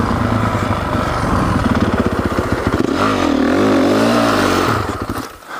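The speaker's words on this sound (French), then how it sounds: "On tente un wheeling. Ah ça patine." A Honda 450 CRF dirt bike engine revs hard and close, with a wavering pitch as the worn rear tyre spins and slips, then the sound drops away abruptly at the end.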